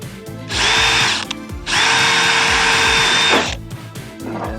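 A power drill pre-drills holes in a metal roof on a utility building being renovated. Two loud, close bursts of whirring are separated by a brief pause, and there is no talk.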